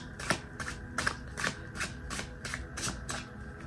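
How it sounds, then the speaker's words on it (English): Tarot cards are shuffled and pulled, a close series of about eight crisp riffling bursts in a steady rhythm, with no talking. "I'm just going to pull a few cards, and then we'll see what we get here."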